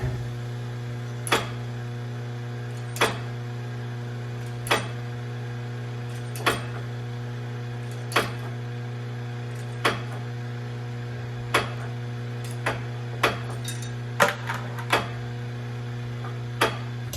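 A Rollsizer case sizing machine runs with its case feeder, giving sharp mechanical clicks at a steady beat of roughly one every second and a half over a constant low electrical hum, with no talking.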